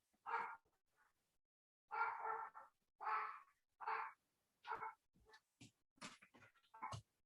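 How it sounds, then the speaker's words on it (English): A dog barks close by in a quiet room, with short sharp barks in irregular bursts, some single and some doubled, and silent gaps between them. "Sorry about the dog barking."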